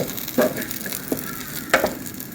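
Garlic cloves fry in a hot pan over the flame until they turn light brown, with a soft steady sizzle broken by a few clinks and scrapes as they are stirred.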